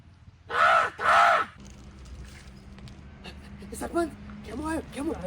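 A person imitates a crow with two loud, harsh caws in quick succession, followed by people talking.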